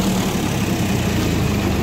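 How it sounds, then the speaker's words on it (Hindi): A Swaraj 744 XT tractor with HLM gearbox idles, a loud, steady low diesel rumble that holds even for the full stretch with no talking over it. "रोक दो इंजन स्टॉप करो बंद करो।"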